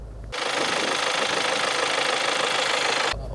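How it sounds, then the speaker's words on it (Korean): A Kia Sorento diesel engine idles with a steady, even rumble and no speech, a constant mechanical drone that starts abruptly and holds level for about three seconds. "공회전 시의 디젤 엔진 소리가 조금 크게 들립니다."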